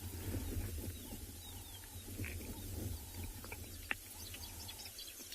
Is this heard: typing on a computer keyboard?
no